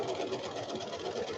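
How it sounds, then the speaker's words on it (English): A sewing machine runs steadily and close up, stitching a child's wrap-around towel and backstitching to lock the seam, giving a continuous mechanical whir with no pauses and no talk. "you're going to want to go 1 stitch off on the side and then back it up."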